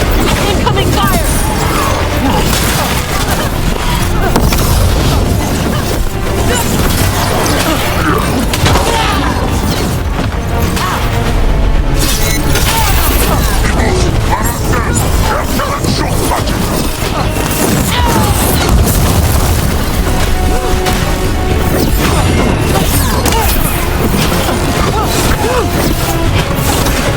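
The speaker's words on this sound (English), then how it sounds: "Cannon fire! Get clear!" Cannon fire in a battle scene booms and crashes continuously amid dense, loud combat noise, with shouting voices mixed into the din.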